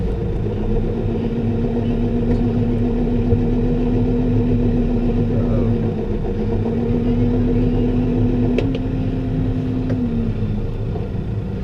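A New Holland T5.120 tractor driving a Teagle Tomahawk straw blower runs steadily nearby with a constant low engine drone and a faint whine, with no speech over it.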